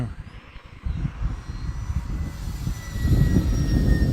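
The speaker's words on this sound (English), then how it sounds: "A little quicker now at half throttle. Let's do a full speed pass here." An RC P-51 Mustang model plane with a small engine roars past at full speed, a steady buzzing drone that swells louder toward the end as it comes closer.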